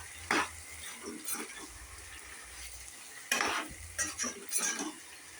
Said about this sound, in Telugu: కొద్దిగా పెరుగు, కొద్దిగా పెరిగేసి బాగా మిక్స్ చేసుకోవాలండి